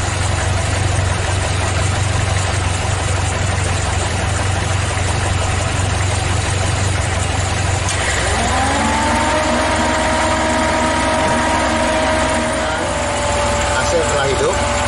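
A car engine idles with the AC switched on, a steady loud hum that wavers as the idle shifts partway through, while someone talks over it.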